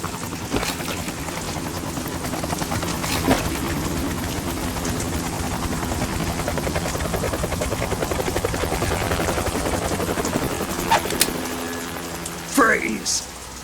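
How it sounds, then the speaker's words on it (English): A helicopter's rotor drones steadily throughout, with a few sharp clatters and a brief rising tone near the end, in the video game Metal Gear Solid 2: Sons of Liberty, Tanker chapter. "You will be on the helicopter out of here now."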